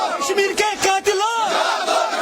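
Protesters gathered in Srinagar shout a slogan together, a chorus of massed voices chanting in a rough cadence with brief pauses between phrases, close and forceful.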